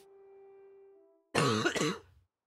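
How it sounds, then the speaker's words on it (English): A person coughs and clears their throat in a short, harsh burst of two or three hacks, close and loud, following a faint steady hum. "Serious case of coughs there."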